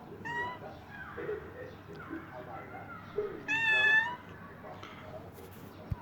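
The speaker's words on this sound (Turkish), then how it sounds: "Evet, kedim de bağırıyor arkadaşlar." A pet cat meows loudly indoors, two drawn-out wailing cries, the second longer and louder, separated by quieter room sounds and faint murmuring.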